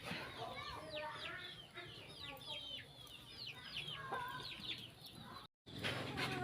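Chickens cluck and chatter continuously close by, with other bird calls mixed in over a background hum and a brief dropout near the end.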